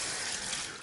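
Kitchen tap water runs steadily over sea moss being rinsed, a continuous close hiss and splash of flowing water.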